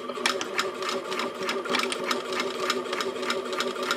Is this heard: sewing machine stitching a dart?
yes